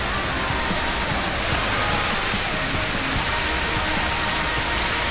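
Steady rushing waterfall at a city fountain, a broad continuous splash and roar of falling water heard up close without pause.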